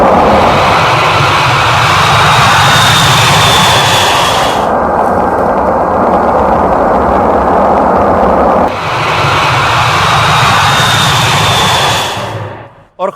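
A B-2 bomber's jet engines roar loudly and steadily throughout, with the higher hiss briefly dulled midway before returning. The sound cuts off abruptly at the end.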